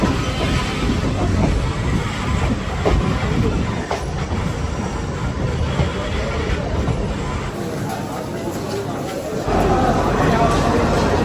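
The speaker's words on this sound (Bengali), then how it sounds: "ট্রেন ঢুকছে যাদবপুর স্টেশনে" A train rumbles and clatters steadily into Jadavpur station in Kolkata, with a crowd murmuring and voices talking over the rolling noise.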